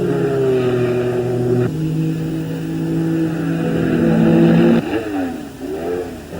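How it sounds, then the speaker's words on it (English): A racing car at a 1970 Gold Star race passes slower cars at speed, its engine a loud, close, sustained drone with shifting pitch and a sharp change as it goes by. "Here comes Gagan once more now, passing the slower cars as he comes through to win the race and win his Gold Star race."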